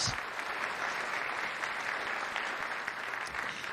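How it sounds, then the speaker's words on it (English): Audience applause for a poet at a city address in Tacoma, a steady dense wash of clapping sustained at even loudness throughout, with no voices over it. "can we give another round of applause for tonight's poet, Nakane Monique"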